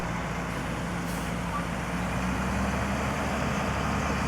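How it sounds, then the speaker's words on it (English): Crane truck working close by, a loud continuous engine drone under a faint steady reversing beep tone. "There he is, Jeff Estes, tamer of crane truck dragons"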